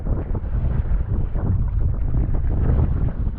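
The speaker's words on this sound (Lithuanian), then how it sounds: "Bangų dydis mažas, bet vėjas stiprus." Strong wind buffeting the microphone while kayaking on the sea, a steady loud rumbling roar with gusty fluctuations and no voices.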